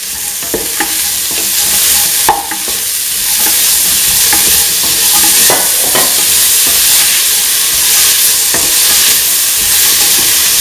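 Chickpea and snake gourd stew sautéing in a pan, with a steady loud sizzle throughout and repeated sharp scrapes and clacks of a utensil stirring against the pan, no voices.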